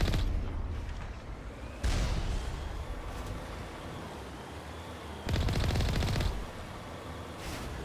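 Gunfire bursts in the video game Mass Effect, with loud dense volleys around two and five seconds standing out over a continuous rumbling game soundscape, no voices present.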